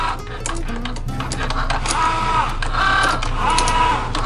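A Cricut cutting machine cuts a label, giving a close buzzing whir with short rising and falling motor tones and light clicking from the carriage, while faint talk drifts underneath.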